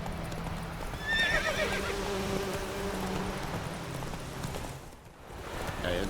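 Roach, Geralt's horse in The Witcher 3 video game, whinnies loudly over steady clip-clopping hooves, with buzzing insects humming in the background before a brief lull and the hoofbeats resume.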